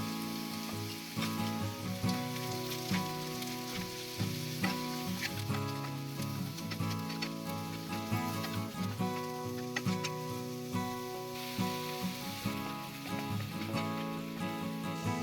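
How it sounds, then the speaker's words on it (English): Mushrooms and red chili pepper sautéing in a pan for mushroom masala, a continuous close sizzle and crackle with occasional stirring clicks, steady and even throughout, no talking, with what may be faint music underneath. "We'll also add the red chili pepper and sauté everything."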